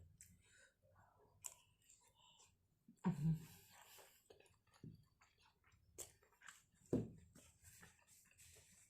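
Someone eats stir-fried fermented pork with shrimp paste in big mouthfuls, with close, quiet chewing, a few louder bites and soft breathing between them.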